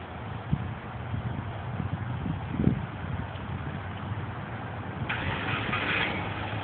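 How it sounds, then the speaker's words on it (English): A car engine cranks and catches after a remote start triggered over Bluetooth from an Arduino, then settles into a steady mid-pitched idle, fairly close and continuous with no talk. "I'll just press an S here on the keyboard, and you'll see the car start."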